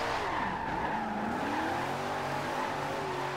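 A Shelby Cobra 427 drift build sliding in Forza Horizon 2, tires skidding and squealing with a wavering pitch over a steady engine roar, loud and continuous with no one talking.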